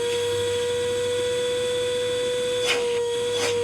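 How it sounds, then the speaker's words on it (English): A bee vacuum used with a hose to catch a swarm runs with a steady, loud electric hum and whine. A couple of brief rustling bursts come near the end, and nobody talks. "leave the vacuum on. They can't run out of here with the vacuum on"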